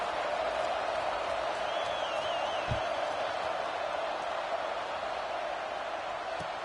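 Stadium crowd noise from a college football video game, a steady broad roar of spectators sustained throughout at an even level, with a brief thump partway through and no clear cheering burst.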